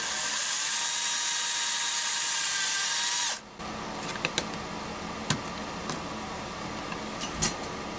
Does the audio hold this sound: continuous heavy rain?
no